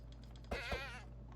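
A short bleat from a goat in Minecraft, a single wavering cry lasting about half a second, clear and fairly close over a quiet ambient background.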